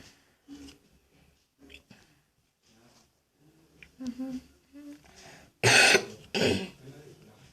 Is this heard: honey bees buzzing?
no